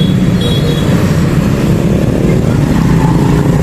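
Steady roar of street traffic with motorcycles passing noisily outside a used phone shop in Tan An, Vietnam, a continuous loud engine rumble throughout with no talking.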